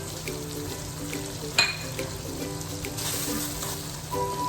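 Chopped green chilies hit a pot of frying oil and tomatoes for degi chicken yakhni pulao, giving a constant close sizzle with a sharp burst of crackle as they drop in, plus light stirring clinks.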